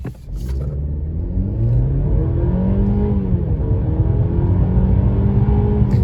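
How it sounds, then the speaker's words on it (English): A 2024 Mercedes-Benz E350 4Matic accelerates hard from close inside the cabin, its engine note climbing and shifting through gears over a steady loud rumble. "I want to do another acceleration run"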